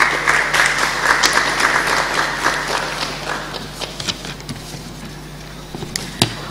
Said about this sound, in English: A round of applause for Mr. Raphael.